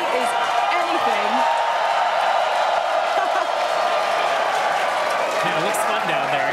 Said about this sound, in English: Everyone's cheering as we get in the T-minus 5 minutes.